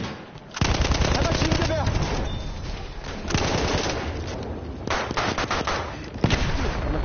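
Battlefield 1 gunfire: loud rapid machine-gun bursts and scattered shots crackle through a busy battle, with a brief quieter lull between volleys.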